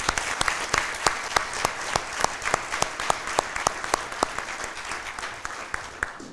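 Another round of audience applause at a Chain of Survival awards ceremony honoring medics, steady crowd clapping with crisp individual claps near the mic throughout.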